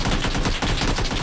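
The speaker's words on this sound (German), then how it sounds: "Er hat daneben geschossen." Rapid automatic gunfire in PUBG rattles in a dense, continuous burst, each shot blurring into the next at close range.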